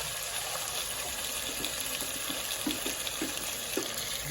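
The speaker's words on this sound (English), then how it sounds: "we're just going to put half a can of water in there as well" Half a can of water being poured into a pot of chilli con carne with tomatoes in a home kitchen, a steady broad splashing wash running throughout with faint clinks near the end.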